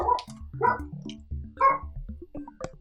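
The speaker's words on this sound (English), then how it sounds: "it sounds like a dog, apparently" A dog in the Steins;Gate visual novel game gives a run of short, moderately loud barks and yips in an uneven rhythm, with a whimpering tone. Each call is brief and the sound stays close.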